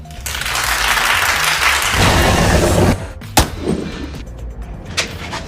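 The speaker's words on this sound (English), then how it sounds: "clap if you think she should suffer." A dense burst of clapping applause fills the first few seconds, then drops to scattered thumps and quieter noise.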